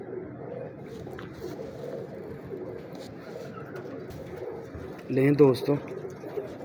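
Kasuri pigeons coo softly among a pigeon breeder's flock, low murmuring calls under someone talking, with a fuller burst of cooing near the end.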